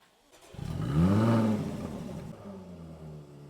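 A low-mileage Jaguar F-Type's engine cranks and fires up in sport mode with its loud exhaust active, swelling into a throaty rev before settling into a rumbling idle, close by.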